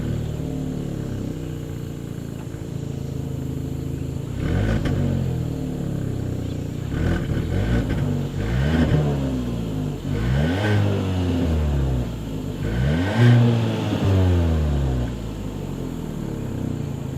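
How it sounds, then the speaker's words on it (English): A 2022 Kia Soul's turbo exhaust, recorded up close, revs repeatedly from a steady idle. Several sharp throttle blips rise and fall in pitch over the middle stretch, then the engine settles back to idle. "As always, here is that exhaust clip."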